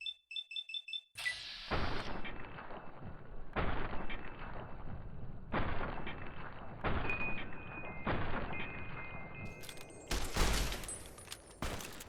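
Bursts of assault rifle gunfire in the Fallout: New Vegas video game, several loud rattling volleys separated by short pauses, with electronic interface beeps at the start and end and no talking.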